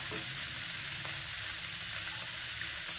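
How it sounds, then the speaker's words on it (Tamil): Fenugreek seeds dropped into hot oil for dried fish thokku, a steady close crackling sizzle that holds evenly throughout with light stirring, no voices. "நான் கொஞ்சம் வெந்தயம் போட்டுக்கிறேன்."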